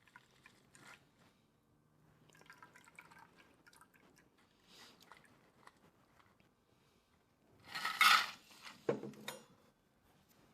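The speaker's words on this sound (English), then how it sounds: "we're going to pour our ginger martini" Ginger martini poured from a cocktail shaker into a martini glass: a faint, quiet stretch ends in a short burst of splashing, dripping liquid, heard alone with no talk.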